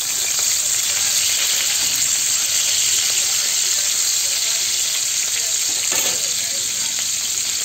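Fish frying in a pan of oil, a loud, dense, continuous sizzle heard up close, with a brief scrape partway through.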